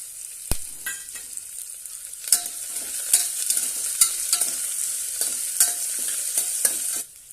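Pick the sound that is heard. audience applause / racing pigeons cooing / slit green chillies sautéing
slit green chillies sautéing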